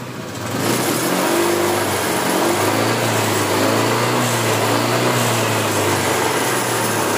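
A Honda Vario scooter with white smoke coming from its exhaust starts and settles into a steady, smooth, fairly loud engine hum that holds evenly for the remainder, with no voices over it.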